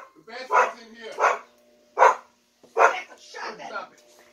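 A dog barks repeatedly indoors in a house whose basement is flooded from an overflowing toilet, giving five loud, close barks in an uneven rhythm with short pauses between them.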